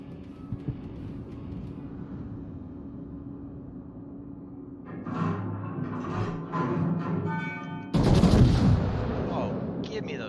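Naval guns firing broadsides in World of Warships, with a few faint distant thumps, then a rumbling salvo and a sharp, loud blast near the end over a background drone.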